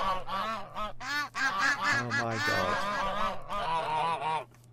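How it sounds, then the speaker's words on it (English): Baby geese from the Minecraft Better Animals Plus mod (version 1.18.1) honk in a rapid, overlapping chorus of nasal calls, close and continuous, with a brief exclamation from a man partway through. "Oh, look at those baby geese."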